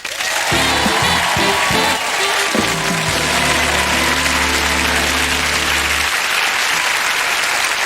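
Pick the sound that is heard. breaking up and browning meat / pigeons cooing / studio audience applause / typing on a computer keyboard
studio audience applause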